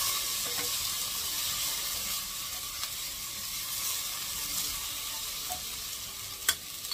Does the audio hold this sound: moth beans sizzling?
yes